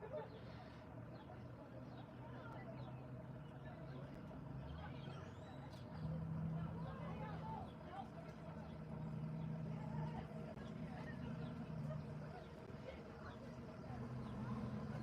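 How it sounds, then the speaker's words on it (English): A large party bus idles and pulls in to collect a crowd of prom-goers, giving a faint, distant low engine rumble that swells slightly at times, with some quiet background sounds. "A whole bunch of people going to prom. Getting picked up by a party bus."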